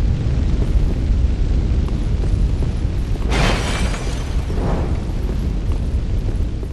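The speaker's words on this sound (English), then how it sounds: "Did I just fucking burn down this whole building?" Fire roars through a burning building in Dark Souls III: a steady low rumble with two bursts of flaring flame midway, loud and close, with no voices.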